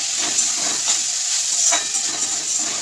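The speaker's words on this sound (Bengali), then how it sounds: "এদিকে বাঁধাকপি ভাজা বসিয়ে দিয়েছি" Cabbage fries in a pan, giving a steady bright sizzle up close with faint scraping and stirring sounds under it, no voices.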